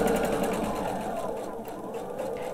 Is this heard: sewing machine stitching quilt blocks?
yes